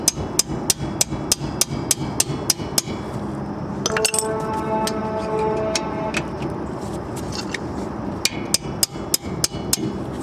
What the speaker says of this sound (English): instead of using your hand, I'll be tapping it with a hammer.